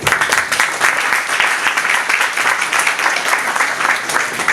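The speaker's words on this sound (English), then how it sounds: "Clap, clap." Loud, dense clapping from a crowd, continuous and energetic throughout.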